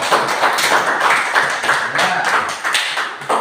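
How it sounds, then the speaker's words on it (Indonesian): A classroom of students applauding a classmate, dense steady clapping close by that fills the clip, with voices mixed in under it. "tepuk tangan untuk teman"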